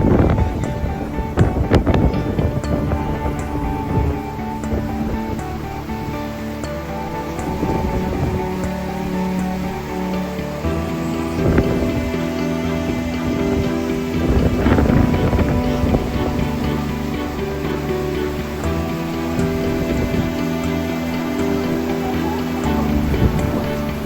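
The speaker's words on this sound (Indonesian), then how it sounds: "Air terjunnya." Waterfall on Changbai Mountain in a geopark on the China–North Korea border: a steady, broad rushing roar that holds level throughout, buffeted by wind on the microphone, with no talking.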